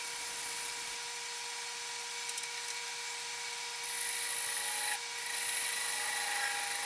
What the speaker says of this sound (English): Just some 220 sandpaper just to finish it up.